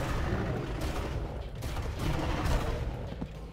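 Sustained firefight in Far Cry 1: a thick, continuous roar of overlapping gunshots and rumbling blasts, loud and unbroken for the whole stretch.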